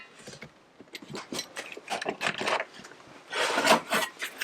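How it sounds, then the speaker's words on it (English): A throatless shear slices through sheet metal in a home workshop, a series of rasping, grinding cuts repeating in short bursts, close and fairly loud with no talking. "this is called a throatless shear, and is one of the few like special metalworking tools I've got"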